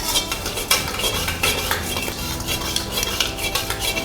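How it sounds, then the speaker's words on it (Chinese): Pork ribs tossed with crispy garlic and breadcrumbs in a wok over high heat, with loud, busy metallic scraping and clanking of a spatula against the pan, rapid and continuous, no talk. "接着把这排骨放进来，火这时候可以开大一点了哈，可以翻炒它"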